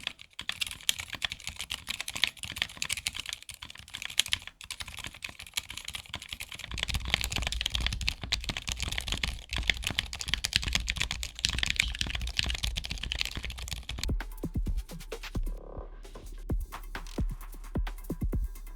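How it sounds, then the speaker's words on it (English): Continuous typing on a silenced mechanical keyboard built from a SAKA68 kit with a machined aluminum case, giving a steady run of soft, muffled key presses close up with no voices. "this is what it should sound like before and after"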